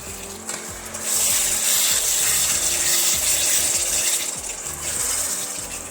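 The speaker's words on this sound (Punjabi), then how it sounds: "2-3 ਚਮਚੇ ਆਪਾਂ ਇਹਦੇ ਵਿੱਚ ਪਾਣੀ ਪਾ ਦਾਂਗੇ" Water is poured into a sizzling potato and pea masala while cooking, giving a loud, steady hiss and splash that swells after a moment and holds for several seconds, close to the pan, with no voices.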